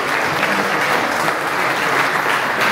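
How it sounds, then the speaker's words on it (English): Loud, dense applause fills a hall at a commemoration evening for the 7 October 2023 attack, held at a Jewish consistory, a steady unbroken roar of many hands throughout. "Je crois qu'on peut applaudir très fort tous les intervenants de ce soir"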